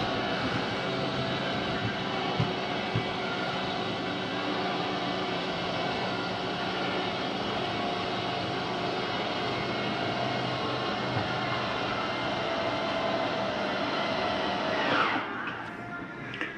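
Bedroom slide-out on a Jayco Precept Prestige 26H RV retracting, a steady motor drone running for about fifteen seconds before winding down and stopping near the end.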